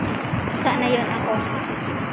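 Rain falls steadily as an even, continuous hiss of drops, fairly close and moderately loud, with faint background noise.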